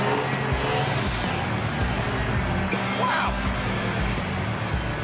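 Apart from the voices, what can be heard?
Chevrolet Biscayne engine running on stale gas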